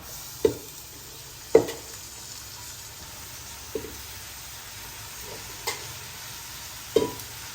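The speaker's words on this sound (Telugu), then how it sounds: "ఉల్లిపాయలు వేగుతున్నాయి కదా ఇందులో మనం గోంగూర వేసేద్దాం" Gongura leaves are tossed into onions frying in a pan and stirred, a faint sizzle under a few sharp, spaced scraping knocks of the spoon against the pan.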